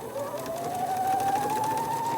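A sewing machine top-stitches the lining of a fabric face mask, a continuous close whirring motor hum whose pitch climbs slightly as it speeds up, running alone at steady volume.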